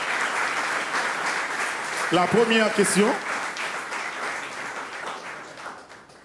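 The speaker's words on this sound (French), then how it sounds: "Encore sous nos applaudissements" A studio audience at a motivation event keeps up steady, loud applause throughout, with a brief spoken voice rising over the clapping partway through before it slowly fades.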